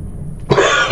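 A person coughs once, a sharp, close, harsh burst following a quiet moment with a faint throat sound, then ringing out briefly.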